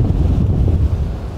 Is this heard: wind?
yes